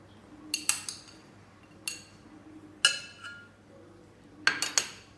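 A metal spoon clinks sharply against a bowl in scattered taps while vegetable fillings such as corn and carrot are added to baked vegetable boats, close and clear over quiet kitchen background.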